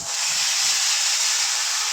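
Water poured into a hot pan of dry-roasted dal hisses and steams in a loud, continuous sizzle that stays steady and close throughout.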